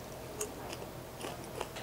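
Sweet, buttery almond butter popcorn crunches between the teeth in a few soft, close bites and chews, quiet and without talk.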